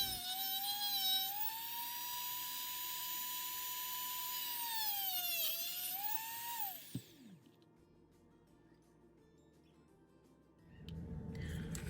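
Dremel rotary tool fitted with a cutting wheel cuts through bamboo stalks from a home-decor store. A steady high-pitched whine with a falling pitch runs for about seven seconds, then cuts out, leaving a quiet pause and a low rumble.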